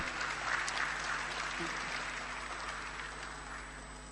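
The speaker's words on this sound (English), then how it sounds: "A round of applause." Applause from a large crowd at the opening of a SADC summit, a steady wash of clapping heard from a distance that holds evenly throughout.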